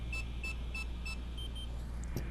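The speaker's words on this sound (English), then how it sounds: "You should hear a beep. That annoying beep." Beeps from DJI FPV goggles during binding: four evenly spaced high electronic tones, then fainter ones and a short click near the end, over a low steady hum, with no voices.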